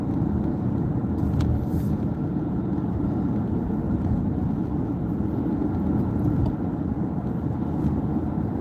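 A car drives on the I-10 highway heading into Houston as a storm approaches, heard as a continuous low road rumble and tire roar from inside the vehicle, steady and fairly loud, with no talking.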